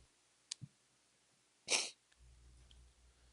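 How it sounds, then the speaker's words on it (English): A single sharp human sneeze bursts out close by in a quiet room, preceded by a couple of faint clicks and followed by a low, steady hum. "I gotta sneeze"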